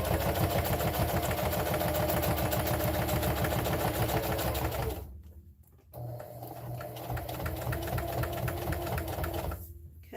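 A sewing machine stitches a reversible mug rug made from fat quarters, running in a steady rapid whir, pausing briefly when the needle stays down to pivot, then resuming loud and close.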